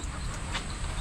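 Soft clucking from chickens under a steady wash of rain noise after heavy rainfall, low and continuous with no clear individual calls standing out.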